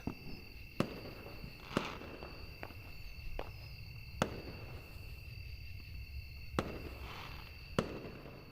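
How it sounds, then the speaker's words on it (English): Firework rockets burst at night as a run of sharp, separated cracks spaced a second or two apart, echoing faintly over a steady insect-like hum in the background. "Soon I heard the sound of the first rocket making its way into the night sky, after which it exploded into a pattern of colors."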